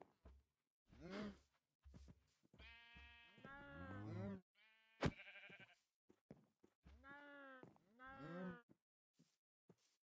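Cows mooing in Minecraft, several drawn-out lowing calls in sequence with short gaps between them, clear and close and with no voices.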